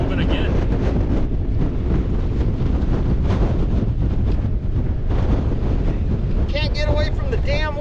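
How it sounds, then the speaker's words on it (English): Wind buffets the microphone out on White Bear Lake during a fishing outing, a continuous loud rumbling roar with a voice briefly audible near the end. "Can't get away from the damn wind."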